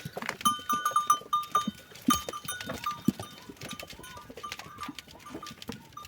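Goats bleat several times over a busy farmyard with bells and clattering hooves, the animals close and calling in short bursts.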